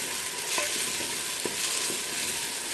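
Onions and ginger garlic paste frying in a pot for handi kabab, a loud dense sizzle filling the background with a few faint clicks of stirring, no talking.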